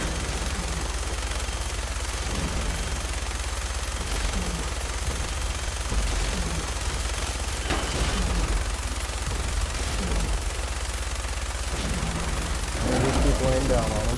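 Sustained gunfire rattles through a Fallout 4 street battle, with rapid overlapping shots and bursts continuing steadily under a loud, dense game soundscape, and a voice briefly heard near the end.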